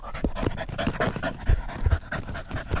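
A dog hunting rats in a rice paddy pants rapidly and heavily up close, in quick rhythmic breaths.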